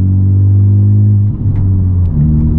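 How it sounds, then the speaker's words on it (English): Inside a Honda Civic Type R on new wheels and fresh tires, a steady low road rumble and engine drone fill the cabin, loud and continuous, with a slight shift in pitch midway. "The road noise is a little less than before."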